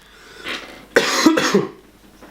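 A person coughs a few times in a short, harsh burst, close to the microphone, then falls quiet.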